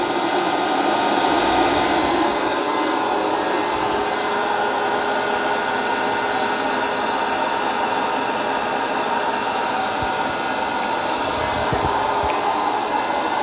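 A home hot air coffee roaster blows a steady, loud rush of hot air that tumbles the beans, with no moving parts, keeping up an unbroken fan-like roar with faint rattling throughout.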